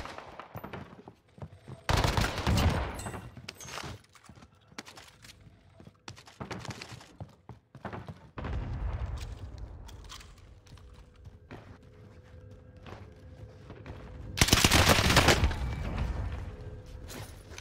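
Warzone gunfire near a lighthouse: several sharp bursts of automatic fire crack out at separate moments, loud and close, with quieter shots and game ambience between them and no talking.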